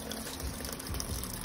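Tap water runs from a faucet into a small portable clothes washing machine, making a soft, steady hiss and gush of filling water at low volume.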